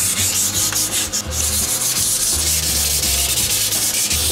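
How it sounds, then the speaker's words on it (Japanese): A large rusted kitchen knife is scrubbed with 400-grit sandpaper in steady back-and-forth rubbing strokes, close and continuous, with no talking. "目の粗くない400のヤスリでちょっと周りをちゃんと削っていきたいと思います"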